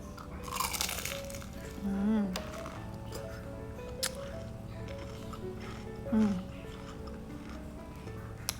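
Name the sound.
crunching while eating a crispy snack with rujak seasoning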